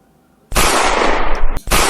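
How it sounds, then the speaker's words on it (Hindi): A gunshot sound effect cracks in loud and close after a moment of quiet, its harsh blast sustained for about a second, then a second burst follows right after a short gap. "उसे उसके पीठ पीछे गोली मार दी जाती है"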